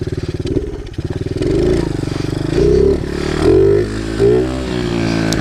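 A pit bike's small engine hums up close while it is ridden, its pitch climbing and falling in a few uneven surges as it is eased along in low gear.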